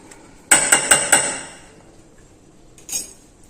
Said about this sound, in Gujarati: મિશ્રણ ચાળી લીધા પછી તેને આપણે થોડું મિક્સ કરી દેશું આ રીતે થોડું મિક્સ કરી દેવાનું